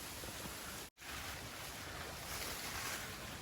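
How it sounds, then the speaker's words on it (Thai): Strong wind blows outdoors near water in Trat, roaring as a continuous dense rush close to the microphone, with a brief cut in the sound near the start. "ลมแรงมากครับ"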